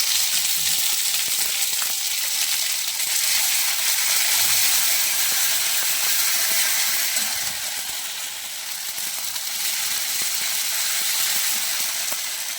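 Ginger paste fries in hot oil for a fish curry, giving a steady, bright sizzling hiss that stays close and constant throughout, dipping slightly near the end.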